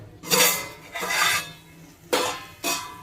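A metal lid scrapes and clanks off a pan of onion-tomato green pea gravy, a few close, short metallic rasps and knocks with pauses between.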